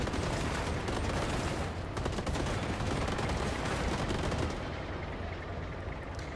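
Rapid, relentless gunfire from the wasteland vehicle-combat game Machine Mind rattles continuously at close range, dense overlapping shots with no pauses and no talking.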